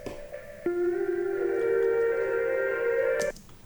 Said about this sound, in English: we have this distorted synth lead that you haven't heard yet in the song, playing a melody